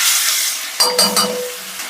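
Cumin, asafoetida and ginger-garlic paste sauté in hot oil for a Kathiyawadi ridge gourd and patra curry: a steady close sizzling hiss, broken by a few quick metal clinks and stirring scrapes of the spoon in the pan.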